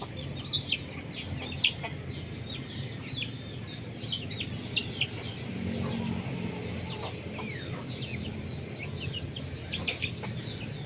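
Chickens with yellow legs and beaks feeding on leftover rice, giving frequent close clucks and chirps over a steady outdoor background.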